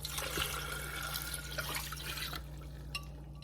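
Water pours into a pressure cooker pot while making a rabbit hunter's pie, a steady splashing stream over about two seconds that then tapers into a few faint drips, close and fairly quiet under a low background hum.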